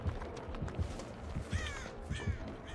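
A crow caws repeatedly in the video game Dead by Daylight, sharp harsh calls over a low rhythmic thumping background, with no voices.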